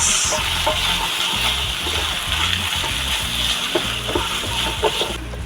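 Ingredients being mixed in a frying pan: steady scraping and stirring with a continuous sizzle and wet splattering, close and fairly loud, with no talking.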